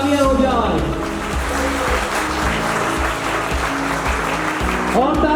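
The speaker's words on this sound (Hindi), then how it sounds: "तो तालियां हो जाए" Applause from an audience at the 2022 annual summit of a crypto mining company, continuous and loud, mixed with background music and a voice at the start and end.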